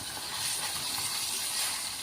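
Fish frying in a pan over a wood fire, a steady, even sizzling hiss that holds without a break throughout.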